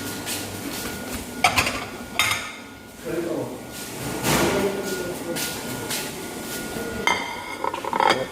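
Plates, cutlery and glassware clink in short bursts at a hotel breakfast buffet in Beijing, with steady crowd murmur and people talking throughout.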